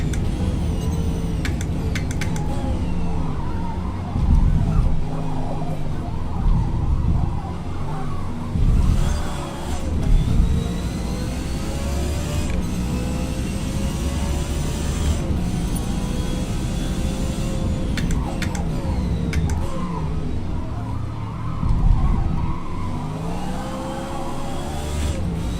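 A race car engine held at full throttle in Forza Motorsport, with no ABS, no traction control and no rear wing, droning loud and continuous with rising and falling gear pitch and shift surges throughout, alone.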